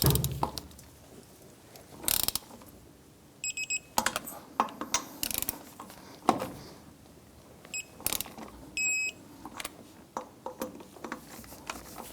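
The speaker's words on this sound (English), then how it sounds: "Let's go ahead and torque down our lug nuts to 95 foot-pounds." A torque wrench tightens lug nuts to 95 foot-pounds on a rear wheel of a 1994-2004 Chevrolet S10, giving faint ratcheting and a few sharp metallic clicks spread through an otherwise quiet stretch.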